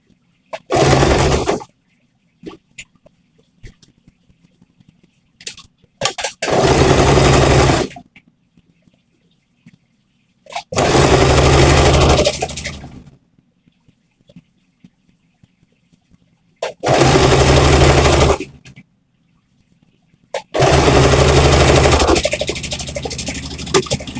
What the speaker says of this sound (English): Now I'm sewing the second side.